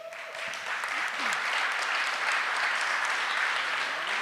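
An audience at a conference panel on indigenous peoples in big cities applauds the organizers, with sustained even clapping from a crowd at moderate distance and a faint voice briefly at the start.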